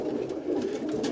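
Roller pigeons coo softly in a loft, a low, warbling murmur that carries on briefly.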